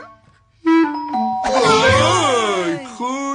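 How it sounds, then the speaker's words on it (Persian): A two-tone cartoon doorbell rings clearly with a ding-dong chime, followed by an animated character's voice. "چون زنگ زد"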